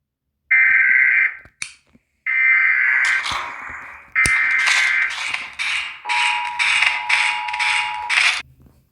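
Piercing US Emergency Alert System alarm tone: loud, harsh two-tone attention bursts that start, cut off and resume, then break into a run of rapid pulsing beeps near the end, with no talking.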